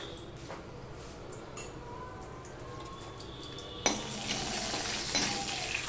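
Nigella seeds dropped into hot oil for a fish curry, with oil already used to fry fish, give a steady sizzle that swells suddenly louder partway through, with faint clinks of a utensil against the pan.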